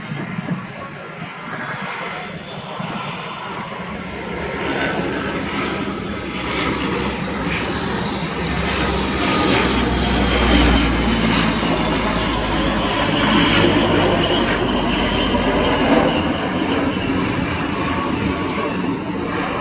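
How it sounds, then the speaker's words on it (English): French Navy Dassault-built Bréguet Atlantique 2 (ATL-2) maritime patrol aircraft flying a search-and-rescue configured display pass at an air show; a loud, steady turboprop drone builds and swells as it approaches, continuous for about twenty seconds. "Bringing the aircraft in now for a search and rescue support configured pass."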